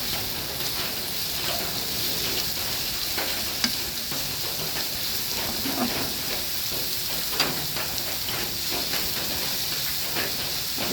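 Pasta boils in a pot of water, giving a steady close hiss and bubbling with scattered small clicks and pops that keep an even level throughout.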